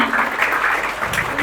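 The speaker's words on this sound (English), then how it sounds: "A huge round of applause for ma'am." An audience at an indoor mindful-living event claps in a brief, dense burst of applause that holds steady and close for the whole moment.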